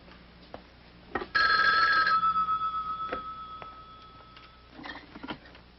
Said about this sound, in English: Doremus, pick up the phone.